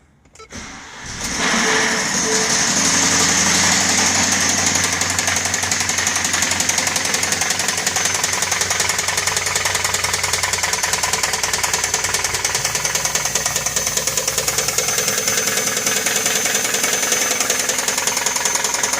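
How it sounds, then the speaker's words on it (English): Heavy rod knock from a 2019 Ford F-150 engine at 109 odometer, dust-ingested through an unsecured airbox: a loud, steady rapid metallic knocking over the running engine, continuous after startup with no talk. "Nasty rod knock, most likely due to this airbox not being secure and the engine ingesting all this dust."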